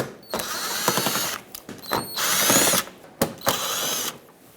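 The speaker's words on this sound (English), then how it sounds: "But I do have the 3 Phillips head screws to remove, so let's do that." A power drill whirs in short, repeated bursts with ratcheting clicks, backing out Phillips head screws from the front bumper cover of a 2012-2018 Nissan Altima, loud and close with brief pauses between spins.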